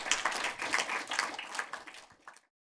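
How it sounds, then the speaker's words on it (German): An audience applauds a director and her cameraman, with dense, close clapping that runs for about two seconds and then fades out abruptly. "Also schon mal einen großen Applaus, Anna Roller, Felix Flieger"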